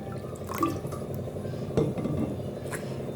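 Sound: water poured into a bowl

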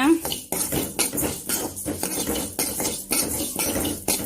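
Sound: rice being dry-roasted and stirred in a pan

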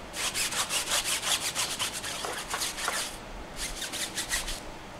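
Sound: scrubbing a car tire with a tire brush and cleaner

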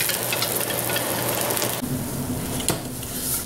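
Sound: green onions sizzling in a hot carbon steel wok while seasoning

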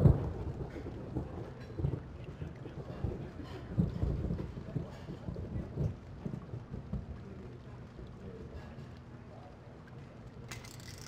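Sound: rain in video game Tex Murphy Pandora Directive

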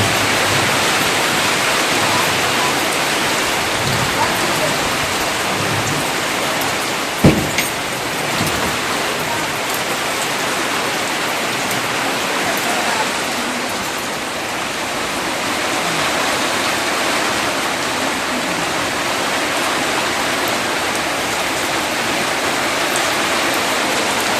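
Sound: rain with wind

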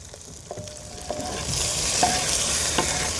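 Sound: sautéing garlic and chopped tomatoes in a pan

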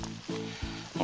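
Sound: meat boiling vigorously in pot

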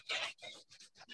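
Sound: rubbing a newspaper

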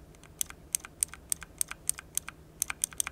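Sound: sharp clicks of MSI Vigor GK50 Elite mechanical keyboard

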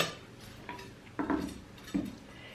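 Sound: chopped onion going into a salad bowl

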